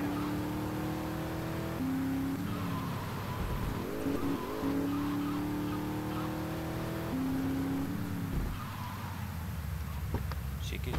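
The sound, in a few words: car driving in video game GTA Vice City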